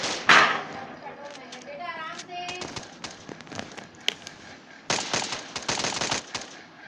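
Automatic gunfire in the mobile shooter Kuboom comes as sharp, rapid bursts of shots, clustered near the end, with a player's voice talking between them.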